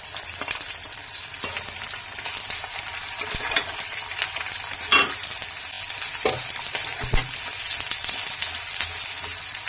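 Garlic cloves, ginger and a vertically sliced onion roast in a hot pan with oil for a spicy stuffed brinjal curry, giving a steady close sizzle with scraping stirs and occasional louder spatters, no talk.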